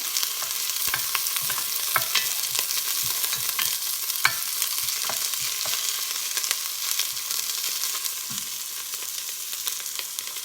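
Kale is stirred around a hot pan while salmon cooks nearby, a continuous sizzle and frying hiss broken by frequent light scraping and clicking taps of the utensil, steady and close with no talk.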